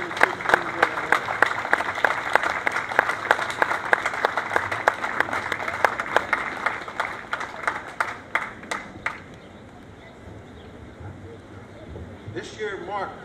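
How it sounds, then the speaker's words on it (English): A crowd at a Memorial Day ceremony applauds the grand marshal with brisk, rhythmic outdoor clapping that carries for about nine seconds, then stops, leaving quiet ambience with a few faint sounds. "Please join us in a big round of applause for our 2015 Grand Marshal."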